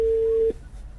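Telephone busy signal heard while placing a call: a single steady, clear electronic tone that stops abruptly about halfway through, followed by faint background hiss.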